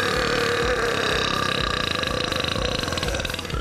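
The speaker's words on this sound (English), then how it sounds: "champion burps can reach up to 109 decibels" A champion burper whose burps can reach up to 109 decibels lets out one sustained, very loud burp, a rough, buzzing belch that holds strong for several seconds with a throaty pulsing texture, close and alone.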